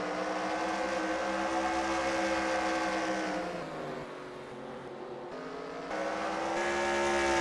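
Race cars in an SRX Series heat at Stafford Motor Speedway roaring down the stretch side by side, loud sustained engine drone that dips briefly and swells again as they pass.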